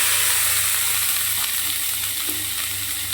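Grated carrots fry in hot oil in a wok over low gas, giving a steady close sizzle with faint stirring scrapes and no voices.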